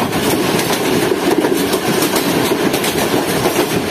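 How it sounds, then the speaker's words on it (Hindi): The Shah Hussain Express speeds through Badami Bagh railway station without stopping, giving a loud, steady rumble of wheels and carriages with faint rhythmic clatter throughout. "स्पीड में ट्रेन ने स्किप किया बादामी बाग रेलवे स्टेशन को।"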